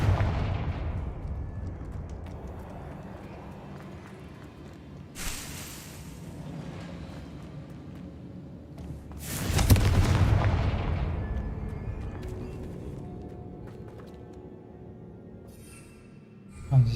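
Confringo spell blasts in the video game Hogwarts Legacy, a few heavy explosive booms with rushing whooshes spaced over a low rumbling game ambience, one blast loudest midway and another sharp hit at the end, no talk.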